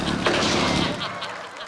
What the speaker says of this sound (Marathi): बंदुकीच्या गोळ्यांचे आवाज आहेत.